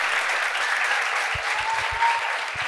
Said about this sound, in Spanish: Un aplauso para la fila 7 que todos opinaron.